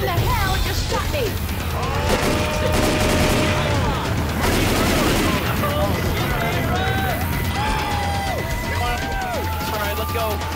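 Dense gunfire in the Left 4 Dead 2 video game: rapid overlapping shots and crashing bursts, loud and continuous, under excited shouting voices throughout.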